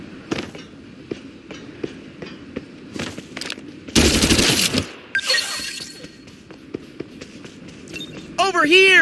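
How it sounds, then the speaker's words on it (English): Gunfire in the battle game Farlight 84, scattered sharp shots across the clip with a loud dense burst near the middle and more firing later, mixed with other game effects and talk. "Open fire! Eat this!"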